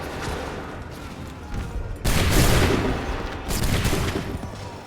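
Musket volley fire in Assassin's Creed 3, a video game: a sudden loud crackling fusillade bursts out midway, then a second ragged wave of shots follows, with quieter rumbling battle noise before.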